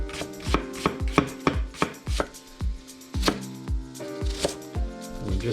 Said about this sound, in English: we're just going to kind of julienne thinly slice our onion so that it looks about the same thickness as our sauerkraut